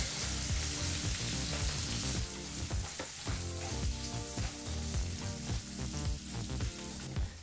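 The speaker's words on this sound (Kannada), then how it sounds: "ಈಗ ಮೀಡಿಯಂ ಫ್ಲೇಮ್ನಲ್ಲೇ ಎರಡು ನಿಮಿಷಗಳ ಕಾಲ ಚೆನ್ನಾಗಿ ಇದನ್ನೆಲ್ಲ ಫ್ರೈ ಮಾಡ್ಕೋಬೇಕಾಗತ್ತೆ" Onions and curry leaves fry on a medium flame for a radish lentil stew, giving a steady loud sizzle layered with busy rhythmic clatter that could be music or utensils.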